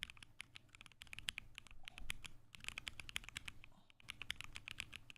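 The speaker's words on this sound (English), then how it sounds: "Do you guys want to hear keyboard ASMR noises?" Soft, quick keyboard typing clatters steadily with irregular rhythm and brief pauses, close and quiet with no talking.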